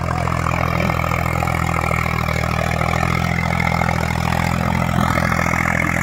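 Eicher 333 tractor pulling an eleven-tine plough through a field, its diesel engine giving a steady, loud, close rumble with a mechanical clatter and no break through the whole stretch.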